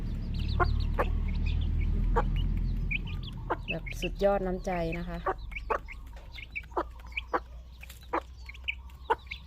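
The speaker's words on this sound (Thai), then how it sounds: "มีไก่ตัวนี้อยู่ตัวเดียว" Several short clucks from a chicken, scattered and close by, with someone talking briefly in the middle over a low rumbling background.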